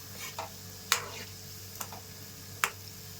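Gulab jamun fry in oil on a medium flame while being stirred, with a few sharp spoon taps against the pan over a faint, steady sizzle, heard close with no talking.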